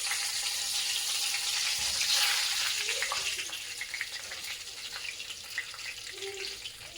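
Curry leaves crackle and sputter in hot oil in a kitchen while masala peanuts are made. A bright, fairly quiet sizzle swells at first, then thins to scattered pops, with a few soft clinks.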